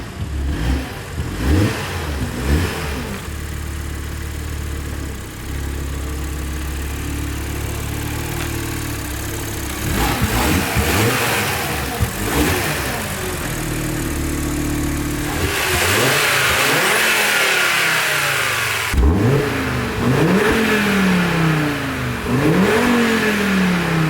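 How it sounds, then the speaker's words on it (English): A near, loud Audi TT RS five-cylinder engine revs in a series of sharp blips and pulls, dropping back toward idle between them, with a throaty warble. "It's got that classic 5-pot sound."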